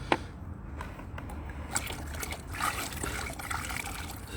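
Hot water trickles and pours into outdoor animal water stations on a cold February morning, a steady liquid splash and dribble running throughout with no talk.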